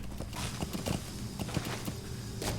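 Horse hooves clip-clop at a steady walking rhythm while riding in the video game Metal Gear Solid V: The Phantom Pain, the repeated hoof strikes close and clear over a low background hum.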